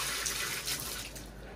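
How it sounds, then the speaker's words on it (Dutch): Water runs steadily from a tap for watering houseplants, a continuous broadband hiss and splash at close range that holds level for the whole stretch with no voices. "Nog wel eventjes de plantjes water gaan geven."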